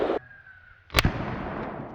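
An AR-15 rifle fires a single sharp, loud shot into a concrete block outdoors, a sudden crack followed by a short rumbling echo that decays over the next second.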